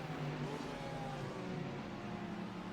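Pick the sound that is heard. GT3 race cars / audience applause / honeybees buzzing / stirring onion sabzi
GT3 race cars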